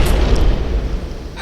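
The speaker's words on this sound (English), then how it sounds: "It's a shotgun." A single heavy shotgun blast from a video game booms at the start, a loud low burst followed by a short rumbling decay.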